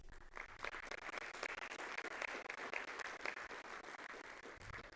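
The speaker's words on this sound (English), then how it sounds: "So a round of applause for Jaden Ferguson." A school board meeting audience gives a round of applause for a student triple jumper, steady mid-distance clapping that is fairly faint and continues throughout.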